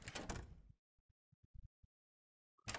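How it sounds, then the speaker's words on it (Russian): A door opens in the video game Omori: a short burst of scraping noise, followed by a few faint soft taps in near silence and another brief noise at the end. "Так, это дверь."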